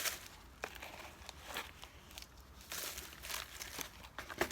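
Homemade compost is spread over a layer of dry leaves in a potato bed, giving soft, faint crinkling and rustling crunches in irregular bursts at close range.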